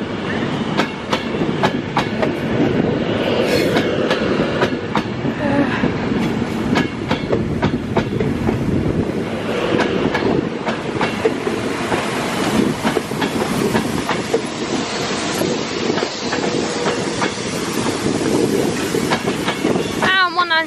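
A Class 390 passenger train pulls out of Crewe station, loud and close, with steady rumbling, clattering wheels and hissing throughout.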